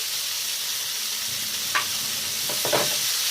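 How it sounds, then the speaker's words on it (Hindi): Paneer and capsicum sautéing with garam masala, kitchen king masala and salt in a pan, a steady loud sizzle with a few scraping stirs near the end, no voices. "पनीर और कैप्सिकम सौते हो गया है"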